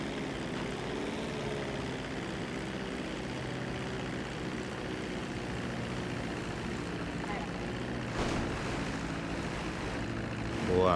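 A propeller airplane flies in a GTA roleplay game, its engine giving a steady, loud drone that holds without a break from start to finish, with a slight swell near the end.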